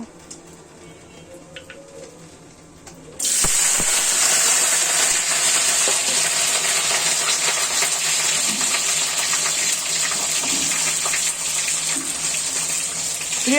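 Chopped ginger, garlic and onion hit hot oil in a pan with bay leaves, bursting into a loud, steady, hissing sizzle that continues unbroken after a quieter opening.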